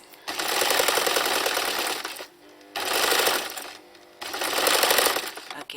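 Sewing machine stitching patchwork fabric: three loud, steady bursts of fast mechanical whirring and clatter, each about one and a half to two seconds long, separated by short pauses, close up with no talking.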